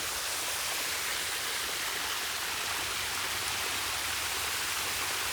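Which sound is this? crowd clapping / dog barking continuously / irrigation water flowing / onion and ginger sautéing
irrigation water flowing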